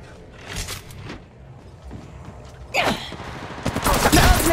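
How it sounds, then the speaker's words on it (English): Gunfire in the mobile battle-royale shooter Apex Legends Mobile, played on an iPad 9: scattered shots early, then a louder sustained burst of rapid fire building toward the end, with faint voice callouts underneath. "I'm getting shot at."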